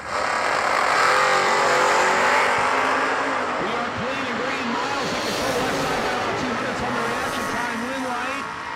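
Drag race between an S10 pickup truck and a wheelstanding Malibu station wagon, loud engines roaring and revving down the strip with tire noise, steady and close for several seconds, an announcer's voice running over the racing sound.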